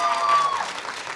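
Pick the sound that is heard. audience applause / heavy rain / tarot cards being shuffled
audience applause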